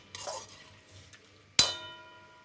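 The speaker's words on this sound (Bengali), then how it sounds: "এবার এটা সব মেশাবো।" Potato is stirred into jhinge posto, ridge gourd with poppy seed, in a pan: a soft scrape, then one sharp metallic clink of a spoon against the pan that rings briefly in a quiet room.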